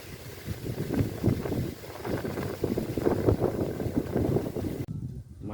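Strong summer wind gusts in Surin, Thailand, buffeting loudly and unevenly for about five seconds as turbulent rushing noise, then cutting off abruptly.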